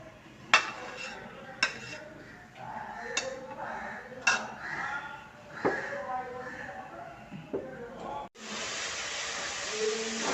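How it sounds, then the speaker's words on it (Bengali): Onion paste is stirred in hot oil in a wok, with scattered metal clinks and scrapes of a utensil and a voice in the background, then a loud, sustained sizzling hiss takes over at the end. "পেঁয়াজ বাটাটা দিয়ে তেলের মধ্যে নাড়ছি"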